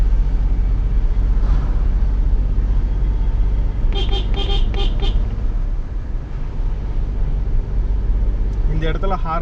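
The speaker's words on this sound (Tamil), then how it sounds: "ஹாரன்லாம் நல்லா கொடுத்துக்கணும் ஏன்னா இது வளைவுங்கிறதுனால நல்லா ஹாரன் கொடுத்துக்கோங்க" A car horn honks in a quick series of short toots while rounding a bend, over a steady engine drone and road noise, with another burst of honks near the end.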